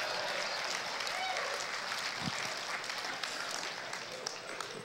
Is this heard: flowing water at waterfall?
no